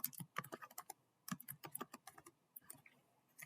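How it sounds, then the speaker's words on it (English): Typing on a computer keyboard to enter a title in an online form, sharp close keystrokes in uneven bursts with brief pauses, quiet overall and no speech. "you want to type in the title"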